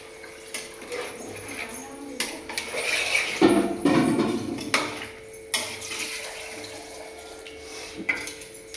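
Water splashes and pours into a metal pot amid clanking of cookware, with intermittent kitchen noise; about 1.5 litres poured for cooking biryani rice.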